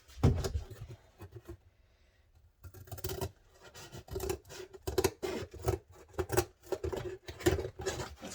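Scissors snipping and sawing through a cardboard parcel box sealed with tape, a run of close, crisp crunching cuts in an uneven rhythm after a brief pause, with rasping scrapes between strokes.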